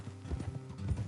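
Horse hooves clip-clop on a road in the Red Dead Redemption 2 video game, a short run of a few soft, fairly close, uneven hoofbeats.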